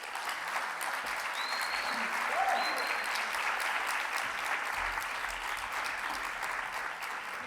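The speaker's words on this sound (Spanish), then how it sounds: "un aplaudiment i al Rubén Antón" An audience at a talk on the history of travesti culture claps in steady, fairly quiet applause for a speaker, a continuous wash of hands with faint voices underneath.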